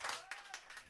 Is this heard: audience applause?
yes